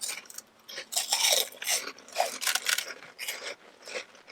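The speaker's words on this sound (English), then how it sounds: "I don't know if I'm that big of a fan of the texture. Kind of too crunchy." Crunchy sweet cinnamon sugar cereal-like snack from a fast food place, chewed close to the mouth in a run of loud, crackly bites and grinding crunches, uneven in rhythm, with no talk.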